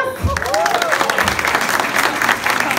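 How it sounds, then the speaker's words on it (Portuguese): A short burst of clapping and cheering from a crowd at a drag contest, with a voice calling out over the applause. "aplausos para Lucas"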